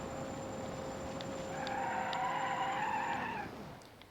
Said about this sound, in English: You can hear the drums. You can hear them squealing for their life.